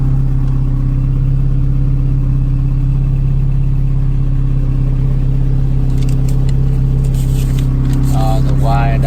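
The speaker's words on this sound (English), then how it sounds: "The engine sounds okay now." A Honda B18C1 turbo engine in a 1998 Integra GSR idles loud and close with a steady low hum, while someone talks over it and some brief clicking and rustling comes near the end.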